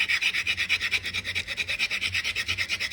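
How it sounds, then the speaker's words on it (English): A hand file rasps back and forth over a small piece of wood clamped in an old milling vise, giving steady, even rhythmic strokes roughly five per second, close and moderately loud with no voices. "you wouldn't want to be rubbing a file up against it"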